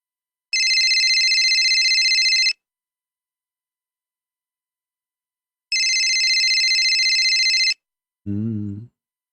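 Electronic cell phone ringtone with two long steady bursts of ringing separated by a silent gap, loud and close, followed by a short low tonal blip at the end.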